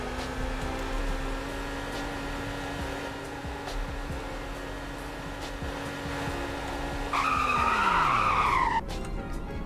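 A front-wheel-drive classic car in the Roblox Greenville driving game holds a steady engine drone during a speed test, then the tone drops as the tires squeal briefly near the end.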